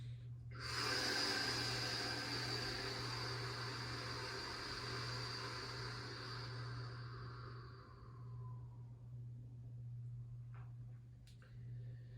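A long, steady exhale of breath during a yoga breathing exercise, a breathy rush that starts abruptly and slowly fades over several seconds, close to the microphone over a low steady hum.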